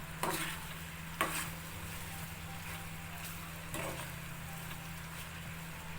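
Raw papaya pieces for tutti frutti are stirred in a pan, giving a few soft scraping strokes over a faint, steady low hum with a light sizzle underneath.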